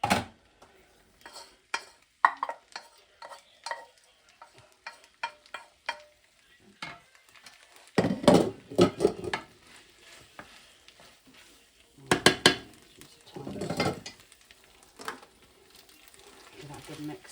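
Spaghetti gets stirred into sauce in a frying pan, with scattered scraping and sizzling stirs, louder bursts of clatter in two stretches, close by, with some speech in between.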